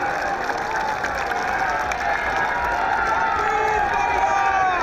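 A large crowd at a Congress party rally in Jaipur applauds and cheers to welcome Chief Minister Bhupesh Baghel, a steady, dense wash of clapping and crowd noise lasting throughout with no break.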